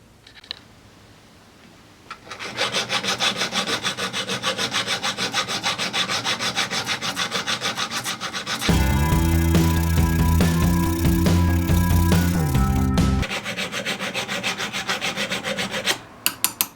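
A metal nut being filed and smoothed into a ring, with rapid repeated rasping strokes of a file starting after a quiet moment, a louder, denser stretch in the middle, then more strokes ending in a few sharp taps.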